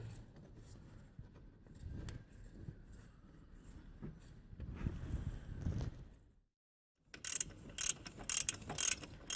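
Bolt being tightened on a 2.0 TDI PD engine of a VW Passat B6 during a timing belt and water pump job: repeated metallic ratcheting and mechanical clicks, close and moderate, with a brief silent gap before sharper clicks resume.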